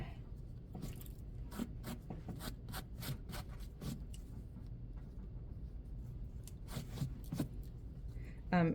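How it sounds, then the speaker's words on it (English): Rapid, scratchy scraping strokes of closed scissors on steamed fabric of a pant hem come in bursts, close and fairly quiet, pausing in the middle before resuming. "and closed scissors, scraping."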